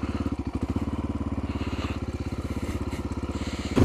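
A motorcycle being ridden runs close and steady, its engine giving a fast, even thrum of firing pulses throughout, with a brief louder surge at the very end.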